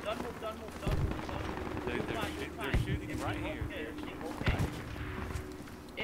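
Gunfire from distant and nearby weapons pops in scattered shots and short bursts during a tactical Project Reality video game firefight near a compound and emplacement, under steady background rumble.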